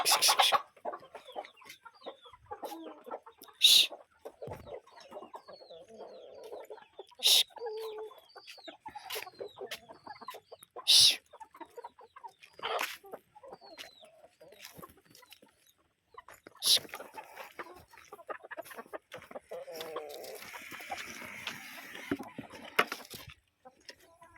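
Chickens cluck and squawk repeatedly close by, with occasional louder bursts and a person talking now and then.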